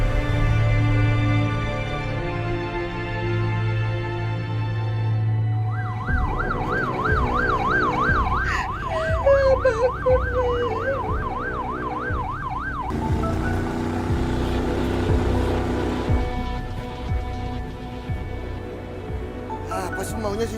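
A wailing ambulance siren cycles loudly and close, its pitch sweeping up and down continuously over steady traffic rumble.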